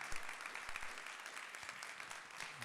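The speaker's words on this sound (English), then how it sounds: "Let's give another round of applause for Nickelus F, Skillz." A student audience at Virginia State claps for Nickelus F and Skillz at the end of a talk, in a brief, fairly faint burst of applause that carries on steadily.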